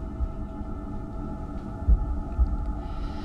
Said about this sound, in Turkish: Kalp atışlarını dinle.